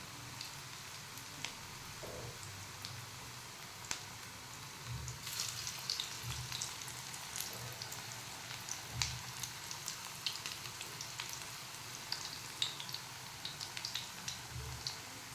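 Mixed vegetable thepla cooking on a pan over medium heat gives a soft, steady sizzle with faint scattered crackles and pops, quiet and continuous with no talking.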